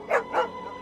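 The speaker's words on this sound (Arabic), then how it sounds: "نسيتوا الكلب بتاعكم، الكلب يا كابتن" Two quick, sharp dog barks close by, the second following about a quarter second after the first, with a faint tail of sound afterward.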